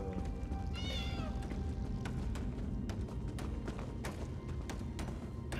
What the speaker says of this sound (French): j'ai entendu un chat